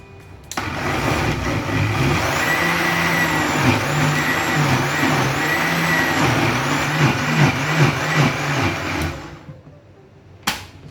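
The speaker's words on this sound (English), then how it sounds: "I'll blend the bitter leaf." A kitchen blender whirs loudly, blending bitter leaf for soup, a steady motor roar with wobbling pitch as the contents churn, starting abruptly and stopping after about nine seconds, followed by a brief knock.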